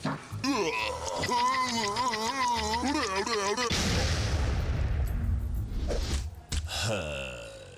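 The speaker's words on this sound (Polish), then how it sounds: "Mamy bombę, więc korzystamy z bomby." A bomb goes off in the video game STEK_CHARLIE.exe: a loud, wide blast cuts sharply into a warbling tonal sound, then rolls into a rumbling, crackling decay that fades over several seconds.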